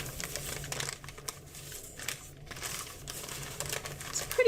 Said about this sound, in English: making the folds along there and folding it down and folding it down.